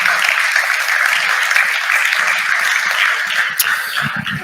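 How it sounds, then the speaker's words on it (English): Audience applause at a panel discussion during a European summit, a full steady clapping from a room of people that runs throughout and thins slightly toward the end. "maybe a quick applause would be nice"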